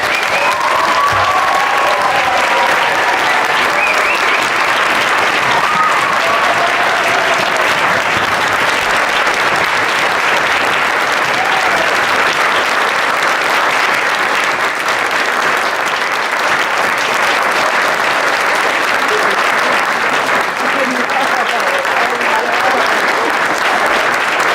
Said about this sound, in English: I'd like to have us all give a great big round of applause to our new citizens